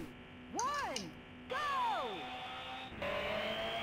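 Racing car engine in Asphalt Urban GT 2 on the DS, rising and falling synthesized revs in repeated short bursts, loud and close, with a steady tonal hum underneath.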